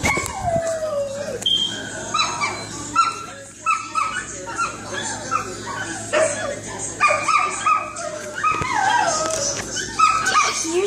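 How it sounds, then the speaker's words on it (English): Several dogs bark, yip and whimper in a busy, overlapping chorus that carries on throughout, loud and close. Someone may be talking faintly beneath the noise. "Those are my dogs."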